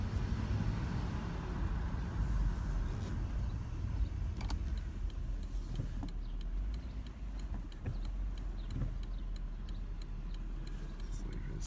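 A Mercedes-Benz 560SEC with a 300 horsepower V8 drives along, its low engine rumble and road noise steady throughout, with faint ticking and knocks inside the cabin and someone talking intermittently.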